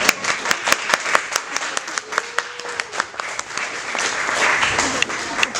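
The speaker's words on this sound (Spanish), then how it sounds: "aplauso, por favor" An audience at a university panel discussion on cigarette and vape use claps, starting with distinct, fairly regular hand claps that thicken into fuller, steadier applause, with faint voices beneath.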